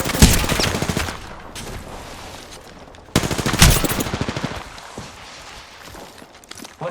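Rapid machine gun fire in a video game, two long rattling bursts of dense shots with echoing tails, close and loud.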